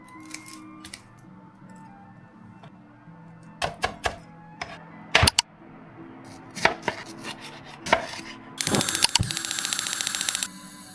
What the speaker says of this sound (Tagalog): Ikakat natin to into cubes.